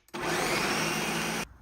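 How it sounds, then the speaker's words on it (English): A blender runs on high speed, blending oats, peanuts and plantain into a Jamaican porridge, a loud steady whirring roar that starts abruptly and stops after about a second and a half. "We're gonna put the blender on. We're gonna go on high speed"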